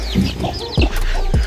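Hens and chicks cluck and peep outdoors in a village yard. Short close clucks sound over a run of higher chirps, loud and uneven across the moment.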